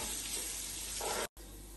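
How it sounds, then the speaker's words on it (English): Onions, curry leaves and green chili sizzle and fry in hot oil for a Kerala-style mutton stew, a steady close crackle with stirring that cuts out briefly near the end. "Now we'll add the onions, the curry leaves and the green chili."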